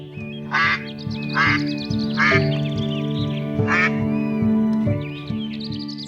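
Cartoon ducks quack in loud, separate bursts, about five calls spaced a second or so apart, over a steady tonal musical background.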